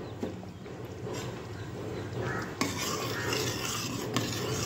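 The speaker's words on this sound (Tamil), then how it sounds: "நல்லா நம்ம உப்பை மிக்ஸ் பண்ணிடுவோம்." Salt is stirred into Chettinad keerai kootu, a spinach lentil dish in a pot, with a continuous scraping, rasping stir and occasional sharper clinks of a spoon against the vessel.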